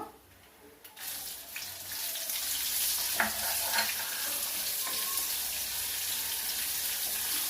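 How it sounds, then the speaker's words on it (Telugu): Sliced onions go into hot oil for a bitter gourd fry and sizzle loudly. After a quiet start, the hiss rises and holds steady, with a few scraping stirs and clinks. "ఇప్పుడు ఉల్లిపాయలు వేస్తున్నానండి. ఒక గడ్డ తరుక్కున్నాను."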